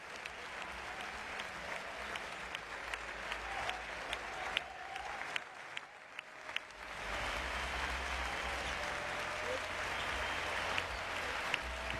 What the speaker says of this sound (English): The players applaud the home fans for their support and admiration.